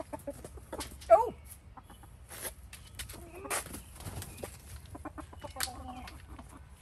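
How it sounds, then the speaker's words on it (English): Chickens in a coop give a few scattered, soft clucks and short calls, faint and close, with quiet rustling between them. "It looks like Cookie has retreated into the crate, so we're going to keep the coop divided a little bit."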